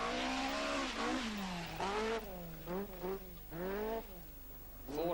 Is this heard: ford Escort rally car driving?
yes